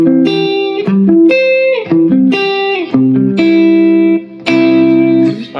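Spread triad arpeggios from drop two voicings picked one note at a time on guitar, each chord rising in clear separate steps with effects and distortion, several groups in a steady flow with short breaks between them, no voices.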